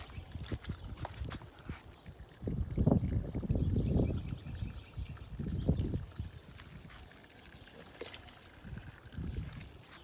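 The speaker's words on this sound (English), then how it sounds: "So I'm gonna water this one." Water pours and trickles into a self-watering stackable planter in a few uneven bursts, close by and fairly soft, with quiet gaps between.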